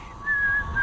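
A brief, clear whistled tone from a person in an audio drama, a single sustained note that lasts under a second.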